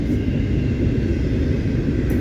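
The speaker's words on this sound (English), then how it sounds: "we got 3 middle DPUs coming on this train here" BNSF westbound intermodal freight train with three mid-train DPU locomotives passing at Chillicothe, Illinois, giving a steady, loud, close rumble of engines and rolling cars with no letup.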